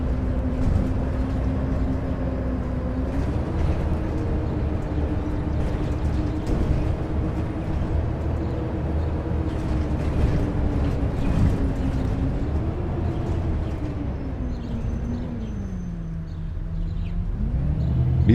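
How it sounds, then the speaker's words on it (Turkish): A simulated Otokar Kent 290 LF city bus engine in OMSI 2 drones with a steady low hum, its pitch rising and dipping as the engine revs change, accompanied by occasional clicks and taps over a continuous rumble. "Motor sesleri tam İzmir'dekine göre olmuş yani."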